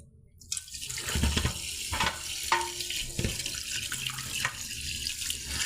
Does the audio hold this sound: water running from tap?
yes